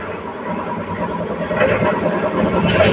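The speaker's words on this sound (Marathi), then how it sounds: "बघा गाडीचा आवाज येते, मतलब गाडी आली" A state transport bus pulls into a village stop with its engine running, a steady mid-pitched rumble that swells slightly as it approaches, heard from nearby outdoors.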